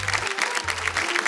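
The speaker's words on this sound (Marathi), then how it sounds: "त्या बात एकदा जोरदार टाळ्या होऊन जाऊ देत" Studio audience applause on a Marathi television show, a dense continuous wash of clapping, loud and close, with a low tone humming underneath.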